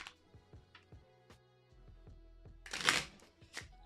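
Playing cards being shuffled by hand, a run of quick riffling flicks and soft taps in an uneven rhythm, close and fairly quiet, with one louder burst of riffle near the end.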